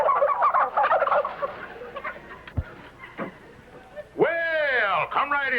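Turkeys gobble in a 1951 Amos 'n' Andy television comedy scene, a loud rattling gobble bursting out near the end after stretches of indistinct voices and background noise.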